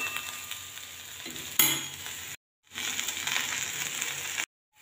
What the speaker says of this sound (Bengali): ঢাকাটা খুলে এবার একটু ভেজে নেব ভালো করে।